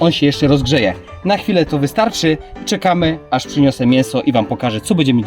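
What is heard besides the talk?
No everyday noise stands out behind the speech.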